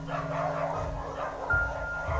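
A pack of dogs barks while attacking a man, the barks overlapping in a loud, continuous cluster against steady background noise.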